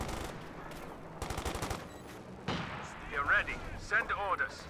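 Anti-tank gun firing in a Company of Heroes 2 battle, with booming cannon shots among other game gunfire and a voice talking over the noise.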